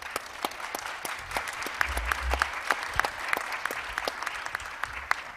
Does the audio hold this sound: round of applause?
yes